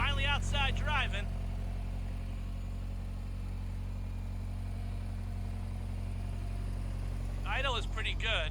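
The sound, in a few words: Ferrari 328 GTS engine idling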